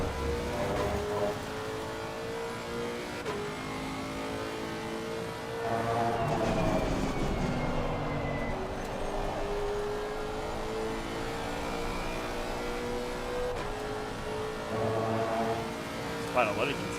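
GT4 race cars at Spa in a racing game, engines droning and revving steadily with pitch shifts as the field runs close together, continuous under the mix with no talk.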